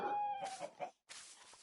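Chickens clucking in the Minecraft video game, a short run of close, loud squawks and clucks with a brief pause, then a burst of softer clucking that follows.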